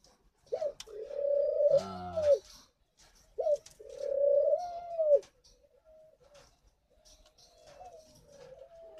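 Spotted doves at a breeding farm give two long, rising coos close by, each a few seconds long, then a fainter third call trails off. No voices are heard.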